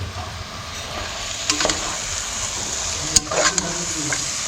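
Mutton fries with masala in a village kitchen pot, a moderate sizzle under background hiss broken by a few scraping stirs and clatters of the spoon.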